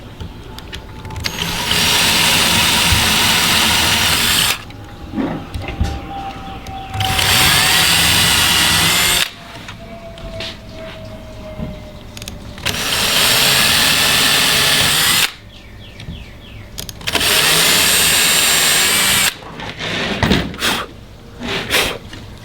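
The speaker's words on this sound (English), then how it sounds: "take your drill and we're going to drill our pilot holes for each of these hinges on the frame" A power drill drilling pilot holes for hinges on a teak console door frame, whirring in repeated bursts of a few seconds each, loud and close, separated by quieter pauses with handling noises.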